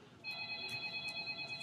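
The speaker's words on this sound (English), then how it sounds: "Whose phone is that?" A mobile phone rings in a training room, a steady electronic ringtone with bright sustained tones repeating in short pulses, fairly close and clear with no talk over it.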